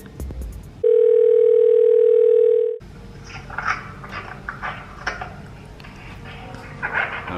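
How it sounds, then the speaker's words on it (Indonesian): A telephone dial tone hums steadily and loudly for about two seconds as a call is placed, then cuts off into quieter room noise. "Coba kita telepon dia dulu ya."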